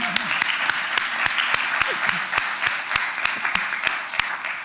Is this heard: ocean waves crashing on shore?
no